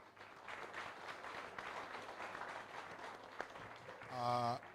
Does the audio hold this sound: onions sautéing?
no